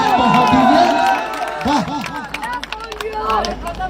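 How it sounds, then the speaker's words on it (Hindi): Crowd at a Bhojpuri stage show claps and cheers in a dense, loud burst, with tonal voices and shouts riding over the applause. "आप एक जोरदार तालियां बजा के सम्मान बढ़ा दीजिए"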